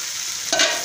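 Marinated chicken pieces drop into hot oil with fried spices for an Assamese chicken curry, setting off a sudden burst of loud, close sizzling after a steady low frying hiss.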